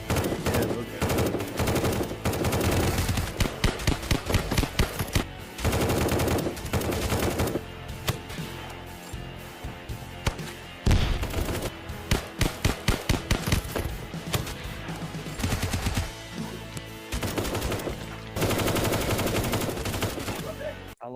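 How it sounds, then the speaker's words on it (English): Gunfire in a video game, with dense bursts of automatic fire and rapid shots that come and go in waves over continuous game sound. "I love how much variation there is in the gun noise as well."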